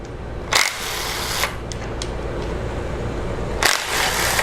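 An impact wrench zips out bolts on a 2.4 Multiair Jeep timing cover, in short loud rattling bursts separated by a quieter steady hum, with no talk.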